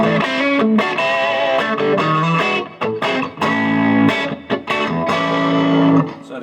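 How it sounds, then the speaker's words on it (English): Electric guitar through a Roland Blues Cube amp with the boost engaged plays gritty, distorted chords and sustained notes in choppy bursts, loud and close with no talking. "So it gives it that nice gritty distortion"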